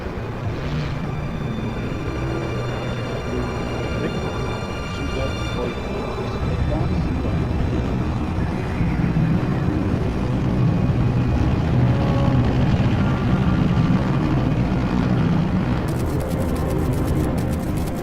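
Aircraft in flight in the video game Metal Gear Solid Delta: Snake Eater, a steady loud engine drone that swells slightly midway, heard inside the plane with radio-style voices talking over it.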